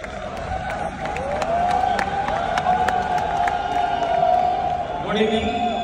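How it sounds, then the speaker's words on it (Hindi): A large audience claps and cheers loudly and steadily, with whoops and voices mixed into the crowd noise. "जोरदार तालियां"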